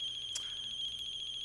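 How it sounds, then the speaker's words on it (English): A phone rings in the horror video game Closing Shift, a thin electronic ringtone pulsing in a steady repeating pattern, fairly faint and heard alone without talk. "It's just a phone."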